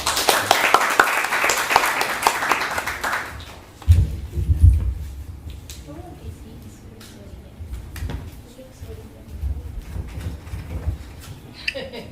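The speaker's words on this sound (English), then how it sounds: "let us invite Tony with a round of applause." A lecture audience gives a short round of applause, a brief burst of clapping at the start that quickly fades into a quieter room with shuffling, thuds and faint voices.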